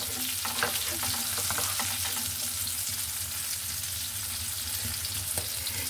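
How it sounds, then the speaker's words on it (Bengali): Fish sizzles loudly in a pan, frying in the oil it has released, with a dense steady crackle and occasional stirring throughout, close and with no talk. "এত তেল ছিল যে মাছের তেল দিয়েই মাছ ভাজছি।"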